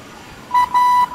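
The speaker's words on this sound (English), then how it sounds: "I'm going to disengage my auto throttle, and I'm also going to disengage my autopilot" Learjet 45 cockpit autopilot and auto throttle disconnect warning, a loud steady electronic tone sounding in three quick pulses, the middle one longest.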